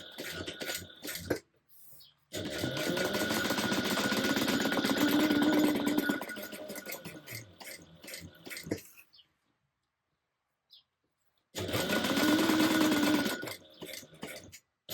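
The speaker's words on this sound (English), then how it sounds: "we're going to close this up with 1/8 of an inch." A sewing machine stitches a tote bag pocket in two bursts of fast, steady whirring with a short pause between them, close by and with no talk.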